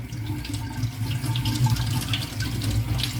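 A glass rinsed under a running kitchen tap, with a steady rushing stream of water splashing against the glass in a sink, close and continuous without pause.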